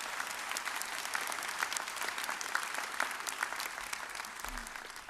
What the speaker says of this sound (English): A round of applause again for you guys.